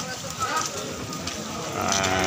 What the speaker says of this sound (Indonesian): Ini adalah sapi-sapi jumbo monster yang dijual belikan ini.